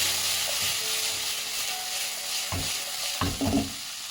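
Chicken pieces fry in mustard oil on high flame, a low steady sizzle broken by a few louder clattering stirs or pan knocks near the end.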